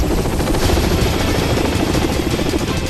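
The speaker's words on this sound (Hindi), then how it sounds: "ये रूस की नौसेना का एंटी सबमरीन अटैक हेलीकॉप्टर है" A Russian navy anti-submarine attack helicopter in flight, a loud, close, continuous rotor thump and turbine roar that stays steady throughout with no voices.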